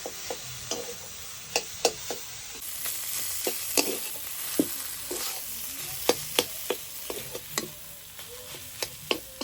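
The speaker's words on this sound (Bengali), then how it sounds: "আলুটা দিয়ে ভালো করে মিশিয়ে নিতে হবে।" Boiled potato stirred into a frying filling in a pan for chicken egg devils, with a soft constant sizzle and repeated sharp spatula clicks against the pan at an uneven pace, no voices.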